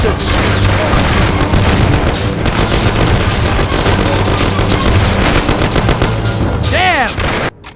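A shootout in the video game Mafia: dense, loud bursts of rapid gunfire and booming shots fill the scene continuously, with shouted voices mixed in.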